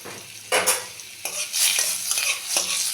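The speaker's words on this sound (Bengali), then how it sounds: "নিয়ে নিয়েছি এক চামচের মতন সাদা তেল সে এখন দিলাম একটু বাটার" Butter melts and sizzles in hot oil in a pan, with several sharp bursts of crackling and spoon or pan clatter as it is stirred, loud and close.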